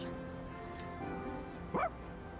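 A single short woof from a dog in the Persona 3 Reload video game, one quick bark rising out of a quiet background hum.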